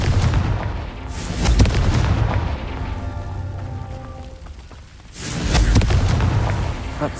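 Booming explosive spell blasts from the Confringo curse in Hogwarts Legacy, loud concussive bursts near the start and again around the end, with a rumbling echo trailing between them.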